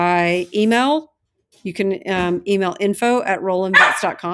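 A dog barks and yips briefly in the background while someone talks steadily over it, the animal's sounds mixed under and between her speech.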